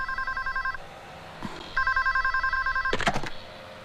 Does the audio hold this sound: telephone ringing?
yes